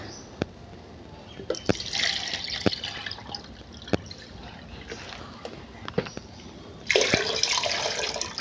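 Liquid plant fertilizer is poured into five litres of water, giving a steady close splashing and trickling with scattered drips, growing louder near the end.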